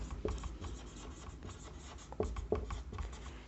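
Pen or pencil writing node equations by hand for a circuit analysis problem, a steady soft scratching across paper with a few sharper taps, close and quiet, with no talking.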